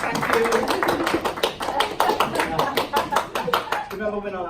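An audience claps in a classroom microteach session, a brisk run of many overlapping hand claps at even strength that stops abruptly near the end, followed by a short moment of speech.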